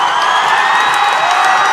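Continuous crowd roar and cheering in a high school basketball gym during the Lyons Lions vs. Clyde-Savannah Golden Eagles game, loud and sustained, with scattered higher shouts over the wash of noise.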